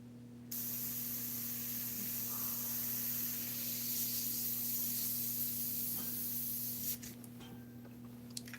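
Airbrush spraying Createx paint onto synthetic paper, a continuous steady hiss with a faint compressor hum underneath, starting abruptly and cutting off near the end.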